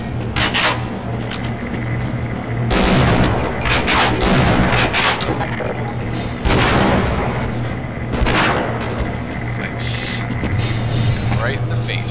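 Grenade blasts and gunfire in the Half-Life shooter, several loud broadband bursts spaced across the stretch over a steady droning background, with no talk.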